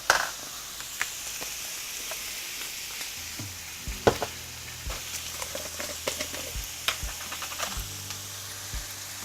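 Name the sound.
stirring fried rice in a hot pan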